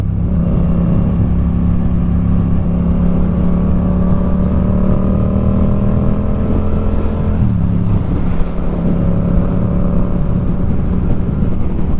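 A newly bought motorcycle idling and revving close by, a loud steady engine drone with rising and falling pitch as the throttle is worked, with a brief dip midway before the engine picks back up.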